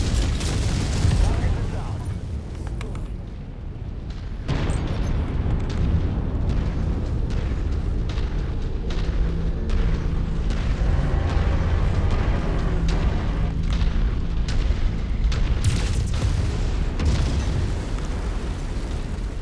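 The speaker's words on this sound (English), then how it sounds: "Smash these red crystals." Red crystals being smashed in the mech combat game MechWarrior 5, producing a dense run of booming explosions and bursts that rumble continuously under a game soundtrack.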